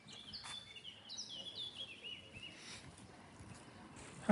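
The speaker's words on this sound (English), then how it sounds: "the birds are singing" Birds chirping and singing outdoors in the town of Bressanone/Brixen just after rain stops, a scatter of faint tweets and calls over a soft, steady background hush, with no one talking.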